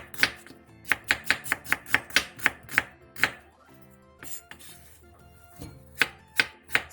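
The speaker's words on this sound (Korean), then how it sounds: "양파 2개를 채 썰어주세요" A knife slices onions into thin strips on a cutting board for Korean water kimchi, giving quick, crisp chops in rapid runs, a pause with softer rustling, then a few more close, sharp cuts.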